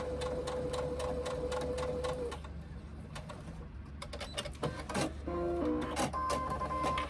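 A sewing machine stitches through vinyl for a sling bag in quick, repetitive bursts close by, pausing briefly midway before the rhythmic clatter resumes, with a faint tonal whine early on.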